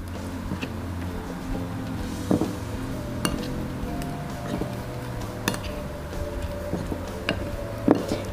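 Grated coconut mixture stirred in a bowl for crispy coconut chips, with light clinks of a utensil against the bowl scattered over a low steady background.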